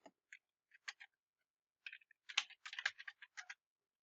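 Keys tapped on a computer keyboard in short bursts, a few isolated clicks then a quicker run of keystrokes after a pause, quiet and close with no talk.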